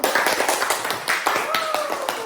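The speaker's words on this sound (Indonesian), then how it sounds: "Kita beri tepuk tangan dulu untuk kelompok 1." A small group claps for the winning team in a classroom activity, quick uneven hand claps spread through the whole short stretch, fairly close, with a voice briefly heard over the clapping.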